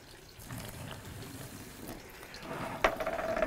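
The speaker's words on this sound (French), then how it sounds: "Je vais donc maintenant humidifier la sciure avec l'eau." Water poured into a bucket of sawdust to dampen it for fishing feeder bait gives a soft, quiet splashing and trickling that swells toward the end.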